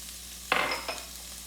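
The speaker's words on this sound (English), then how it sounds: "we are going to saute them for just a minute or two, enough to get the onion to be nice and soft" Diced onion and red bell pepper hitting a hot pan to sauté, a brief soft sizzle and stirring scrape followed by a faint second scrape, quiet and close.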